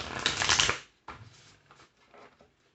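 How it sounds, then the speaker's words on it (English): A deck of tarot cards is shuffled close by in a few quick riffling bursts, loudest at first, then softer crisp shuffles trailing off, with no talk over them. "Let me just shuffle a little bit"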